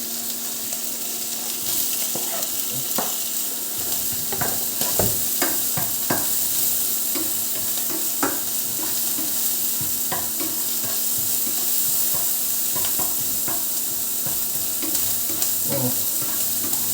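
Onions sizzling with browned ground meat in a pan for a chopped cheese sandwich, a constant close frying hiss broken by frequent scraping and stirring taps.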